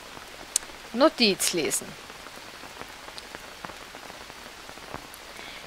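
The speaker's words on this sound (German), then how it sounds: "So, und es regnet." Rain falling in the jungle survival game Green Hell, a steady faint patter across the whole stretch, briefly interrupted by a short burst of louder sounds and a spoken voice near the start.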